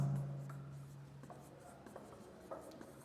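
Chalk or marker strokes on a classroom board during a maths lesson, a few short faint scratching bursts spread across a quiet room with a low steady hum underneath.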